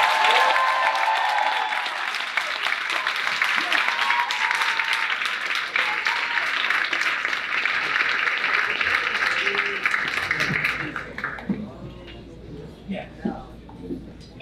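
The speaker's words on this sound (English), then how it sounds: "Please clap it up for the girls' varsity soccer team." Applause for the girls' varsity soccer team at a school sports award dinner: sustained crowd clapping with a few cheers for about ten seconds, then fading out, followed by scattered voices and room chatter.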